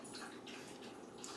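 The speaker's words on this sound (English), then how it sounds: "2 1/2 cups of boiling water." Boiling water poured into a bowl of bread dough mixture with oats, brown sugar, salt and butter for sourdough oatmeal bread, a steady, close splashing pour that runs continuously through the short moment.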